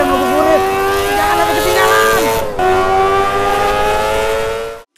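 A motorcycle engine accelerates up close while riding, its tones climbing in pitch through the gears, then dropping before rising again, loud with rushing wind and a voice over the engine.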